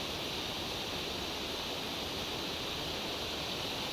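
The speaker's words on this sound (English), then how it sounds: "and this is a valley, beautiful waterfalls." Waterfalls rushing in the Valley of Flowers near Ghangaria, heard as a steady, dense wash of white-noise roar that holds unbroken and fairly faint throughout, with no voices.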